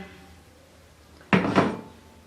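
Raw mutton pieces are dropped into a pressure cooker in a kitchen, giving a short, close metallic clatter and thud lasting under a second after a quiet pause.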